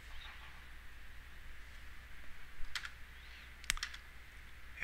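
Keys on a computer keyboard are tapped in a few separate clicks while a command is entered in a terminal, quiet and close against a low steady hum, with no talking.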